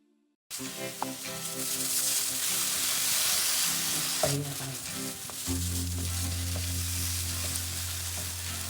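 Mutton hits hot oil in a pan for a Kerala-style roasted-coconut mutton curry, bursting into a loud, steady sizzle right after a brief silence, with a clatter partway through and a low hum beneath.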